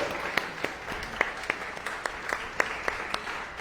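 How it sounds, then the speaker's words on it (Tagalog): A church congregation claps together in a short burst of applause, a loose scatter of sharp hand claps over a soft crowd murmur, heard from a moderate distance. "Palakpakan natin si Jesus! The best na palakpak po para kay Jesus!"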